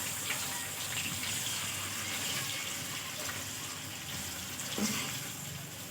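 Boiled potato frying in ghee in a pan, giving a steady, faint, hissing sizzle that continues without a break, close up and with no talk.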